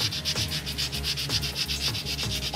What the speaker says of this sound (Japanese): ブラシじゃ取れないのでヤスリで磨きます